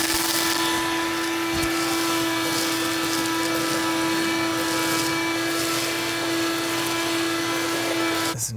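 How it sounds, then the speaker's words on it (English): A vacuum cleaner drones steadily and loudly, close by, as it sucks up dry leaves around a car engine bay, with a constant tonal whine and no talk. "that's another reason why it's good to vacuum up all these leaves"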